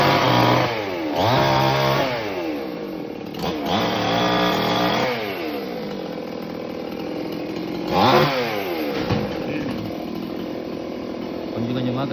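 Chainsaws cut a tree into pieces near power lines in Coimbatore, the engines revving and dropping in repeated surges, loud and close, with a second saw or idling engine running underneath and voices at times.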